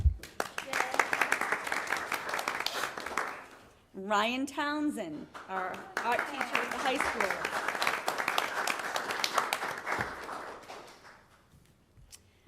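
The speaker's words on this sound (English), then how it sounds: "But we could give her a round of applause" Applause at a school committee meeting, a broadband clapping wash running through most of the stretch and dropping out briefly while someone speaks, then resuming under and around further talk before fading near the end.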